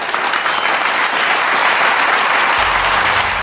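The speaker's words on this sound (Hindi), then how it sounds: "पूरा सभागार तालियों की गड़गड़ाहट से गूंज उठा।" Thunderous applause fills an auditorium, a loud, dense and unbroken roar of many hands clapping at once for the entire stretch.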